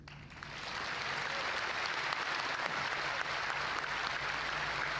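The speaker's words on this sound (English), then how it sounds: "give a round of applause to the people at NVIDIA that worked on this with us" A conference audience breaks into steady applause, a dense even wash of clapping that builds quickly and holds for several seconds at a moderate distance.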